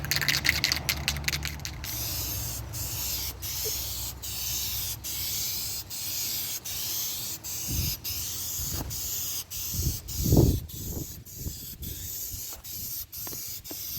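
Aerosol spray can applying silver birch metallic paint onto plastic rocker covers for a 1999-2007 Chevy Silverado, a steady close hiss in passes with short pauses and a few rattles and handling knocks.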